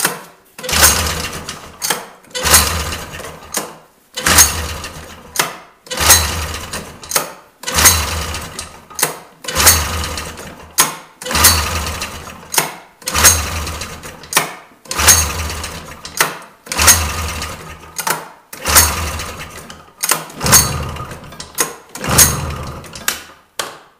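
A Polaris TX snowmobile engine with fouled spark plugs is cranked over and over without starting: about fourteen evenly spaced, close mechanical bursts, each rising and dying off in a steady rhythm, with no voices.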